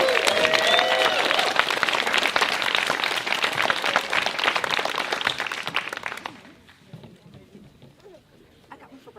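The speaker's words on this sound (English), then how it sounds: "Let's give them one more round of applause." An audience at a closing-announcements event applauds loudly for about six seconds, a dense wash of clapping that then drops away to a faint murmur.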